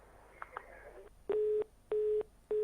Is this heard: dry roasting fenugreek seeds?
no